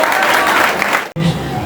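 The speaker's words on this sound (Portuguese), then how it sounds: "Aplauda ao Senhor nessa noite" A church congregation applauds the Lord during an evening service, loud close clapping with crowd voices mixed in, briefly cut off by a short gap before resuming.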